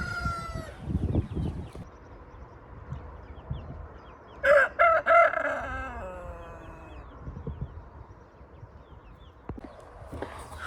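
A rooster gives one rough, hoarse crow at middle distance on a poultry farm over steady farmyard background noise and scattered clucks.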